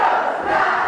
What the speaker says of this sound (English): This crowd are wild for nachos